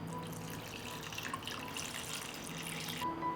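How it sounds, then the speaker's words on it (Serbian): Water pours steadily into a cooking pot lined with a cloth and packed with jars of roasted pepper preserves, a continuous rushing splash with faint clinks, no voices. "I sipat ćemo vodu do visine poklopca."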